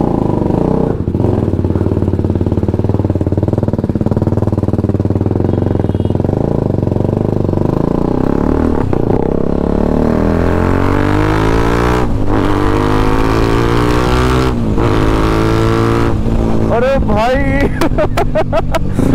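A BMW G310GS adventure motorcycle on a Sunday morning ride, engine loud and close throughout, droning steadily and then revving up and down through repeated rising and falling sweeps, with a rider speaking intermittently over it.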